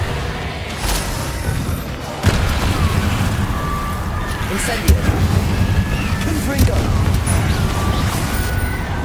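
Incendio fire spell in Hogwarts Legacy, a fiery whoosh and crackling burst over a busy background of combat noise and impacts, with a player's voice talking throughout.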